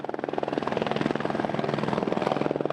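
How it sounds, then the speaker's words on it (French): A water-bombing helicopter at a forest fire roars close by, its rotor thumping in a rapid, steady rhythm throughout. "L'intervention d'un hélicoptère bombardier d'eau prouve la précision de son largage"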